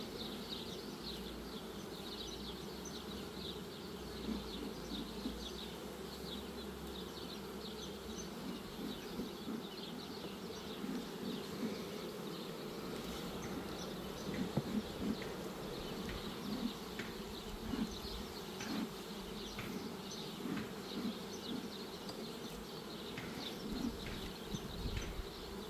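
Honeybees buzz steadily in a hive during colony expansion with a second storey, a dense, continuous drone of many wings with no voices.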